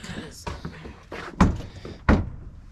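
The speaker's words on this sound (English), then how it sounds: "I'm just going to close this door." A greenhouse door pulled shut on a homestead, giving a few knocks and rattles and then two solid thuds close by, while a person talks during it.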